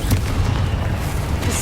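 Fiery Confringo blasting spell explosions from the Hogwarts Legacy video game on PS5, a steady barrage of deep booms and bursts with no pause, loud and close, amid chaotic battle spellcasting.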